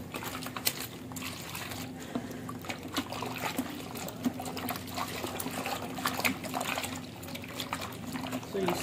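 Silicate being poured into white emulsion paint during factory production, a continuous liquid trickle and splashing pour at close range, with a voice talking over it and a low mechanical hum beneath.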